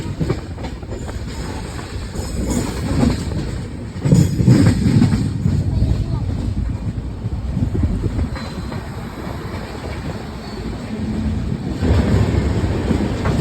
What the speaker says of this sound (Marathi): ट्रेनमध्ये बसलो. ट्रेन आता आम्ही चाललेलो आहे.